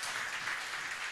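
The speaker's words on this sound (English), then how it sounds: "Let's give them a round of applause again." Brief, fairly quiet round of applause from a church congregation at a Sunday worship service, a soft, even wash of clapping hands.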